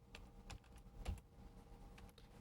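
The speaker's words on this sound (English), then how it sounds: "to log in, we type in our name" A name is typed on a computer keyboard to log in to a client-server application: a quick irregular run of soft key clicks with one heavier thump, close and quiet, no speech.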